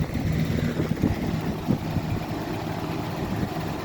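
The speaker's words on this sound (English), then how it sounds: "All that rattling is a loose screw in the back." A 1986 Lakewood Superfan, model P223, hums along on its low setting while a loose screw in the back keeps up a continuous buzzing rattle, close and fairly loud with no pauses.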